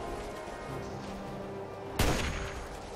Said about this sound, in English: Oh shit, he's got a missile launcher.